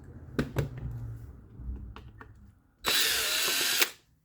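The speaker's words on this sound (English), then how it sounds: "I use the drill machine. It makes the job quicker." Several sharp clicks and knocks, then a power drill whirs in one loud burst of about a second before stopping, removing screws from a vegetable chopper under repair.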